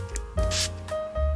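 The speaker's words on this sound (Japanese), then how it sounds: "そうしたらここにもう一度スプレーでお水をかけます。" Water spritzed from a spray bottle held about 20 cm above watercolor paper, lightly misting it before painting; a few short, close hissing bursts with a faint tonal hum in the background.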